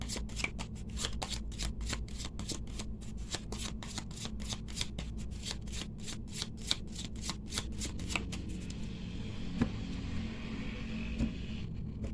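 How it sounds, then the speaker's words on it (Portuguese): A deck of tarot cards shuffled in a rapid riffle, a dense run of close, crisp flicking clicks lasting several seconds before trailing off into quiet handling. "Vamos abrir as cartas para ter essa conversa."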